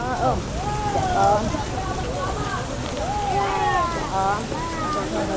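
Steady rain falls throughout, a dense hiss on surfaces near and far, while voices speak and chant over it.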